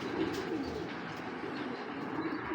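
Giribaz pigeons, including a high-quality male, coo steadily up close in a low, continuous murmur with soft overlapping calls and no talk.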